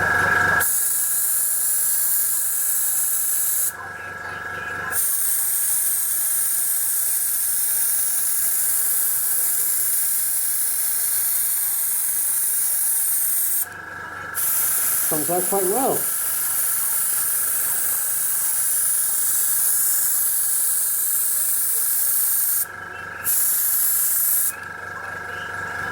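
Airbrush spraying burnt umber paint onto a model floor for a tabletop scenery build, a constant loud hiss broken by a few short pauses, with someone speaking briefly partway through.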